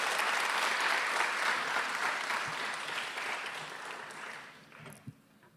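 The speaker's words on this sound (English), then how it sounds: "Please give her one more round of applause." Loud, dense audience applause after a dancer's arangetram performance, many hands clapping together in a sustained roar that gradually tapers off near the end.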